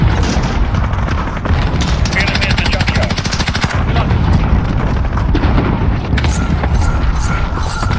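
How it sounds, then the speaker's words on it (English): Cluster strike explosions boom in a shooter video game amid dense, continuous gunfire, with rapid bursts and heavy blasts that stay loud and close throughout. "Enemy cluster strike."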